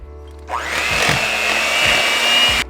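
A handheld electric mixer whirs loudly up to speed and holds a steady high-pitched whine while beating cooked pumpkin into puree, with a few knocks against the bowl, then cuts off abruptly.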